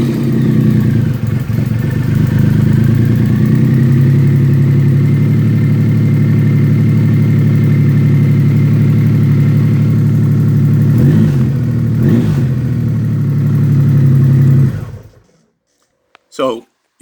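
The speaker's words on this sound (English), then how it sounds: "Let me start the bike and I'll show you that." A motorcycle engine runs at a steady idle for about fifteen seconds, loud and close, with a couple of brief revs near the end before it cuts off into near silence and a short faint knock.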